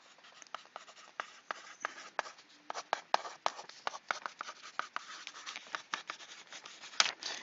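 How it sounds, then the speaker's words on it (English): Pen or pencil writing by hand on paper, a steady run of quick scratchy strokes and taps, close and fairly clear with no talking. "Yeah, okay, I wrote it down."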